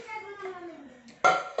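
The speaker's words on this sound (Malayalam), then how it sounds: "കുക്കറിൻ്റെ ഡോറ് തുറന്നു." A pressure cooker lid is pulled open in a home kitchen, giving a brief, sharp metallic clank and rattle at the very end, just after a short voiced sound.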